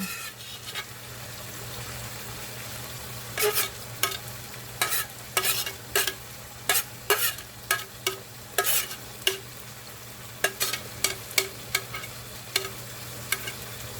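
Chopped broccoli stir-fries in hot oil in a pan for a chicken thigh stir fry, a low steady sizzle punctuated by a quick run of crisp utensil scrapes and clatters that come in clusters, close and fairly loud.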